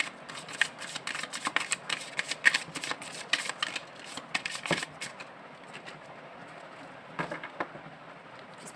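Tarot cards being shuffled by hand: quick riffling, papery flicks in rapid bursts for several seconds, pausing, then a short final flurry, close and fairly quiet.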